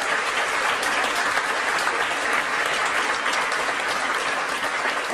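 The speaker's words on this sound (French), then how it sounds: "Je crois qu'on peut encore vous applaudir." Sustained, dense applause from a concert audience at a tribute concert, steady and loud throughout without a break.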